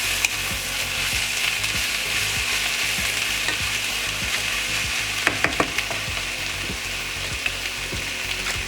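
Spinach and artichoke dip mixture is stirred in a hot pan, a steady bubbling sizzle running throughout with the scrape and clack of a utensil against the pan near the middle.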